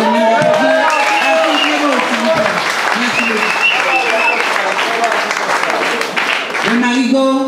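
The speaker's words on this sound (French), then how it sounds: "je vous demande d'applaudir" An audience at a speech in Martinique, with friends from Grande-Rivière among them, claps in steady, dense applause that fills the whole stretch, while a voice keeps talking over the clapping.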